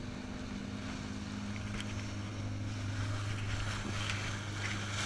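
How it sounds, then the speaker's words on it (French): A small boat's outboard motor running while being throttled to get the hull planing, a steady low engine drone under wind rush and water noise, with no talk. "le moteur il est droit là. Il faut accélérer un petit peu."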